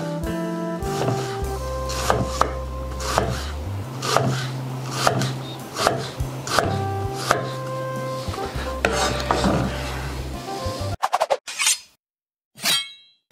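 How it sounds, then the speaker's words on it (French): A sharp knife slices through a shallot on a cutting board, with a run of crisp, irregular chops of varying loudness close by, followed by a few louder knocks and then quiet near the end. "J'ai une échalote, je vais commencer tout simplement à la couper en deux"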